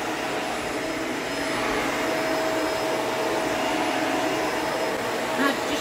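Vacuum cleaner running on carpet, a loud steady close roar with a whining motor tone, lasting the whole stretch without a break, a brief bump near the end.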